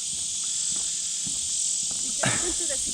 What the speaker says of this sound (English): You can listen to the cicada.